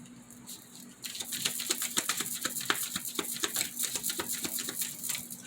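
Tarot cards shuffled by hand, a rapid irregular patter of crisp flicks and riffles, close and fairly loud after a brief quieter start, with no talking.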